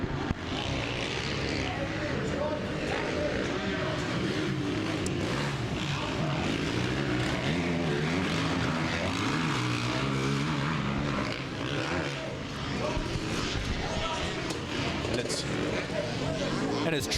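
Two-stroke motocross bikes race in a pack at the AMA Arizona Open, a steady, loud engine drone with rising and falling revs, under a race announcer's continuous commentary.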